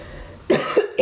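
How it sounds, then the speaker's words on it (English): A person coughs, with a few short, close bursts over a quiet room, two or three rough hacks in quick succession after a brief silence. "I keep getting a cough."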